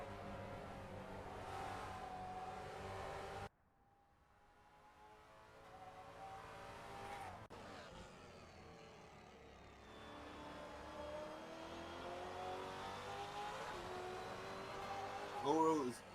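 V8 race cars in an SRAC V8 Masters race speed down the front straight at about 250 km/h, their engines droning and sweeping past with rising and falling pitch, while a commentator talks over the engine noise.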